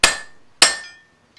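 Two sharp metallic hammer blows strike hot iron resting on a hardy chisel in an anvil's hardy hole, cutting the bar at a blacksmith forge; each strike rings and fades, about half a second apart, close and loud.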